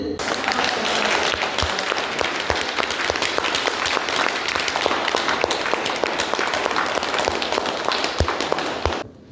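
An audience claps hands in a steady, dense round of applause lasting about nine seconds, with a few sharper individual claps standing out before it cuts off abruptly at the end.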